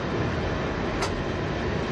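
An express passenger train runs on a British railway line, a steady dense rumble and rush of wheels on rails that fills the moment evenly, close and loud, with no voices.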